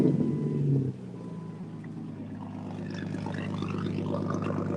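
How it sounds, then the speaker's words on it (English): A Jeep Wrangler with a loud, unrestricted exhaust: a heavy, booming burst of engine noise for about the first second, then a steady, close, droning idle rumble that carries on alone. "It's freaking loud. There's no exhaust laws in South Carolina."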